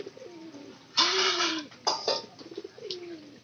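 A pigeon coos close by in a quiet setting, a few soft low calls broken by brief louder rustling bursts.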